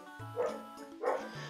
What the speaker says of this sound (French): Mon chien qui aboie parce que mes parents sont rentrés